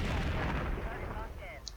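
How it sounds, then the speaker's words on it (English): Game explosions from MechCommander 2, a dense, sustained low rumble of blasts and booms with a couple of brief high-pitched tones near the end, all at a steady, fairly loud level. "That's a bit of explosions coming in."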